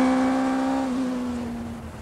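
A Rocket car with a four-cylinder 1000cc Yamaha motorcycle engine is driven at Goodwood, a loud, steady high-pitched engine note holding a single tone that slowly fades as the car pulls away.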